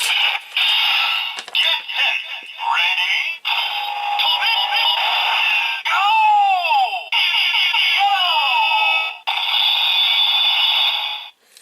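A DX Lupinranger VS Patranger toy changer and dial fighter plays its electronic sound effects to summon the Mecha: a loud, continuous run of bright synthetic tones, sweeps and chimes with brief gaps, close and unaccompanied by talk.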